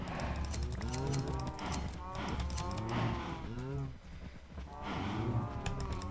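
Blocky cows in the video game Omnicraft letting out several low, drawn-out moos one after another, fairly close, with people talking over them.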